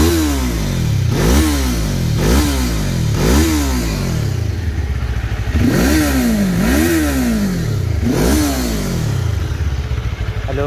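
A Cyclone 400S motorcycle engine is revved repeatedly through its muffler, about six sharp throttle blips rising and falling in a steady rhythm over a running idle, close and loud with no talking.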